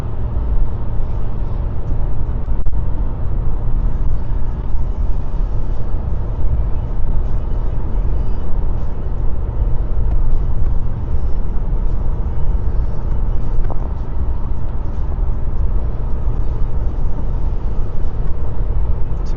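A hybrid car drives along with an almost silent exhaust, leaving only a steady low road and tyre rumble with a soft cabin hum, continuous and even for the whole stretch without talk.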